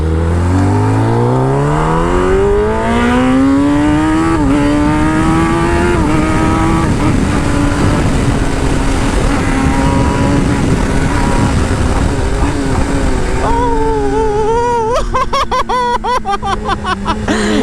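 A Kawasaki ZX-10R with a GP shift pattern, throttle opened hard: a loud, close engine whine climbing steeply through the gears, holding a high steady note, then snapping through rapid shifts and pops near the end.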